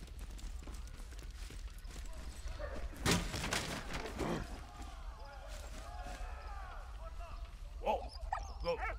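A dog barks in the video game Valiant Hearts: The Great War. There are several short barks and yips, with a louder burst near three seconds, under low background game sound and murmured talk.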